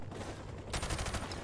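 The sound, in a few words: MP5 gunfire, hip shooting, Call of Duty 4 video game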